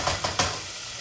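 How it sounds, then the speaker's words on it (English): Onions and garlic fry in a pan, giving a steady close sizzle with a few quick scraping strokes of stirring near the start, and no voices. "Make sure you're stirring your onions and your garlic every so often so that they don't burn."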